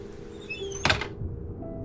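A door shuts once in a Korean horror audio drama, with a single sharp thud mid-clip over steady rainy background ambience, near and moderately loud.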